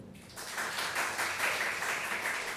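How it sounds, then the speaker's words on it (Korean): A church congregation at a Korean Sunday service breaks into clapping after a brief quiet moment, a dense, even patter that holds steady at moderate distance. "박수 한번 쳐줘요."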